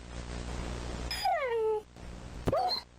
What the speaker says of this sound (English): That was actually Minecraft dog sounds.